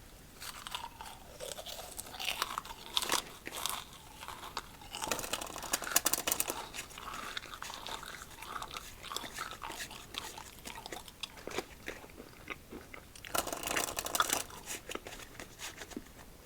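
Crunchy freeze-dried peach is chewed close to the microphone, with crisp bites and a long run of soft, irregular crunching.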